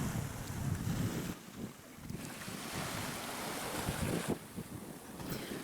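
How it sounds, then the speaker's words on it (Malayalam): Waves wash in on Ocean Cay beach in the evening, a broad rushing surf that swells and recedes, mixed with a cool breeze buffeting the microphone in gusts; no one speaks. "ബീച്ചല്ലേ, നല്ല തണുപ്പ്, നല്ല ഒരു കുളിർ കാറ്റും ഒക്കെ ആയിട്ട്."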